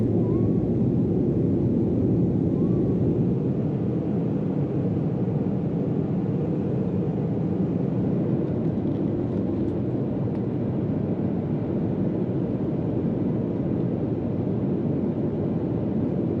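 Steady broadband roar of an Embraer E190 airliner's engines heard from inside the cabin during the climb out of Adelaide, a continuous, even drone with no talk.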